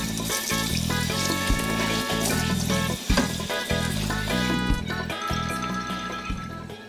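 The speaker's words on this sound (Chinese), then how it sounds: "锅盖呢同样也用清水冲洗干净。" A tagine lid is rinsed under a running kitchen tap, a continuous close splashing hiss that carries on beneath music playing throughout.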